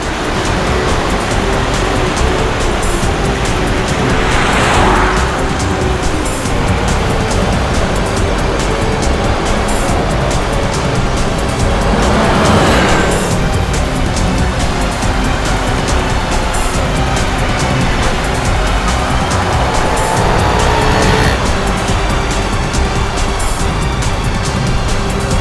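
A car drives along steadily, a constant broad roar of engine and road noise with occasional swells as it passes along, loud and close, with no voices.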